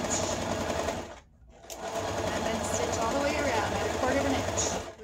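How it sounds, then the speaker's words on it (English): Sewing machine stitching quilted coffee cozy fabric and batting, a fast, steady close-up whir that briefly stops and then runs on, with someone speaking over it. "I'm going to put it in my machine and I'm going to sew at a quarter of an inch"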